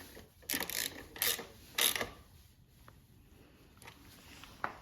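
A 12mm socket ratchet snugs down taillight bolts on a Honda CBR650R, giving three short bursts of quick clicking up close, then quieter faint mechanical ticks.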